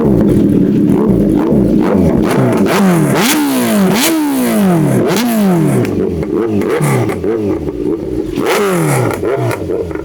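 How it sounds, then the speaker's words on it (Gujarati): A superbike costing about 16 lakh revved hard during a sound check, loud and close, with repeated rising and falling throttle blips over a rough idle for ten seconds, no talking. "સુપર બાઇક છે, સુપર. તો મિત્રો સાઉન્ડ ચેક કરાવું તમને."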